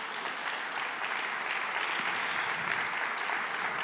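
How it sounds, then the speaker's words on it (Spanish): Sustained applause from a church congregation standing, dense and even clapping throughout with no voices over it. "Colóquese en pie y dele un fuerte aplauso al Señor Jesús."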